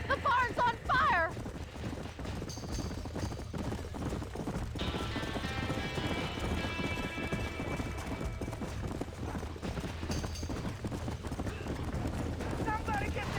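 Horses in a burning barn in Red Dead Redemption, hooves clattering in quick irregular clip-clop and a whinny rising midway, amid commotion with people talking and shouting over it.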